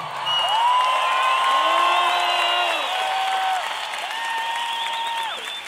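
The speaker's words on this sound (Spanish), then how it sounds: "Y eso merece un respeto y un aplauso." Loud, sustained applause from a large concert crowd at Movistar Arena in Bogotá during a 2019 show, with cheers and whoops rising over the dense clapping throughout.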